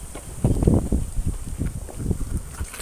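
Strong outdoor wind, gusty enough to push a phone around, buffets the microphone in a steady low rumble with uneven surges throughout.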